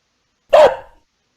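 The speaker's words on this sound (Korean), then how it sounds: "음성인식 결과가 강아지라면 강아지 소리가 나고" A single dog bark, loud and close, one sharp yelp that fades quickly into silence.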